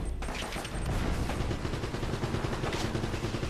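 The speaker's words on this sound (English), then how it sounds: "there's also a machine gun guy at the far end" Enemy gunner firing a machine gun in Uncharted, a dense continuous rattle of rapid shots filling the space, loud and sustained with no pauses.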